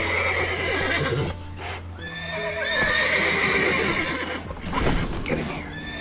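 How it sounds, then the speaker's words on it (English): Horses whinny and snort repeatedly in The Witcher 3 video game, with hooves clopping against a steady low ambient hum. "Gotta calm all the horses before they wake the guards."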